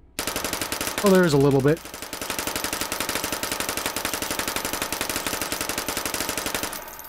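Rapid continuous automatic gunfire from a weapon in the VR shooting game Hot Dogs, Horseshoes & Hand Grenades, a dense loud rattle lasting several seconds, with a brief spoken remark near the start.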